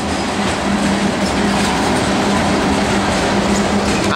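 Norfolk Southern freight train rolling past on the Piedmont Division's Charlotte District, a steady loud rumble of wheels and cars with rhythmic clickety-clack throughout, close by and with no talk.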